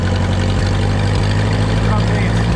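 A tractor engine runs while driving, a loud, close, steady mechanical drone with a low pulsing hum, and a voice speaks briefly over it.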